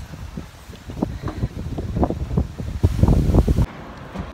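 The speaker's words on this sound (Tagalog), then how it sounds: "Guys, it's too windy." Gusting outdoor wind buffets the microphone in uneven low rumbling bursts, growing heavier toward the end before dropping away abruptly.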